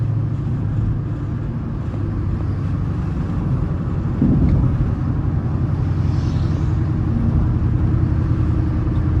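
A car's engine rumbles loud and steady while driving at low RPM, a deep continuous drone with a slight surge partway through and no voices over it.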